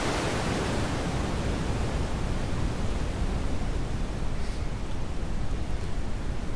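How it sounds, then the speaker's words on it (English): Steady, dense background noise from the Airwindows DarkNoise plugin, a walla-like hiss centred on the mid-range with rolled-off lows, continuous and even for the whole stretch. "you can fairly quickly get a sort of background walla sound that centers on mid-range and it rolls off lows"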